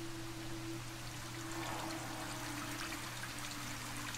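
Steady rain hisses in Myst V: End of Ages, a soft even wash of falling water with faint trickling, quiet and continuous over a low steady hum.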